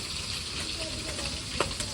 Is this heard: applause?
no